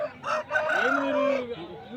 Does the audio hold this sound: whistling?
no